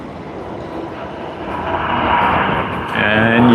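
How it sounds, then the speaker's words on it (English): A Singapore Airlines Airbus A380 takes off from Sydney Airport, a loud jet roar building steadily over a few seconds with a rising whine near the end. "the final takeoff of today's stream. On its way to Singapore Changi International Airport. SQ232 on the Airbus A380"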